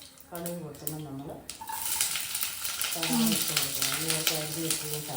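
Mustard seeds crackle and splutter in hot oil during preparation of a soya bean roast. A steady sizzle runs throughout, and voices talk over it at the start and again near the end.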